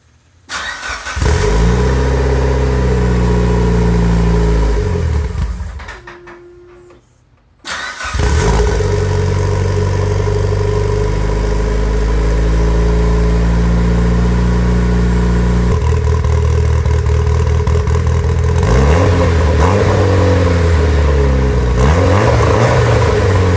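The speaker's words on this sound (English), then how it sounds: "you can hear how it sounds for the first time with the new downpipe" A Mitsubishi Evo 9 engine fitted with a new downpipe exhaust starts, idles with a loud, raspy rumble and then drops away briefly. It restarts and settles into a steady, throaty idle with some mechanical clatter, recorded close.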